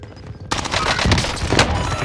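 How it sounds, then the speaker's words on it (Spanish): Rapid automatic gunfire in the video game Warzone erupts suddenly after a brief moment of low ambience and continues as a dense, loud fusillade of overlapping shots. "Escucho disparos por allí."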